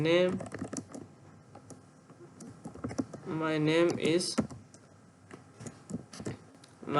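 Quiet clicks of a computer keyboard run through a TypeScript coding lesson while someone talks over the typing, with short pauses in between.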